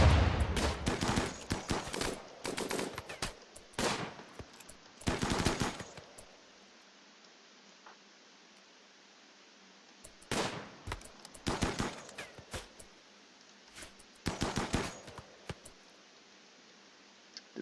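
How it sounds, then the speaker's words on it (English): Bursts of automatic gunfire in the video game RimWorld come in clustered volleys separated by quiet gaps, some sharp and close, others softer, with a faint steady hum beneath and no talking. "They are still firing."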